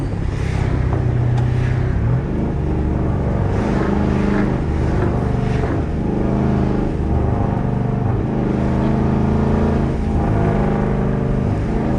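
A rebuilt Gen 2 Dodge Charger with a 392 engine drives along, its loud, deep exhaust rumbling steadily and close by for the whole stretch, with no voices.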